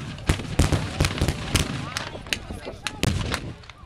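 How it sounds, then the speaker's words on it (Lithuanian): Musket volleys and artillery fire at a Napoleonic battle reenactment marking the 200th anniversary of the army's Neman crossing: repeated sharp cracks and booms, some in quick clusters, over a constant outdoor rumble. "Puikiai organizuotos salvės."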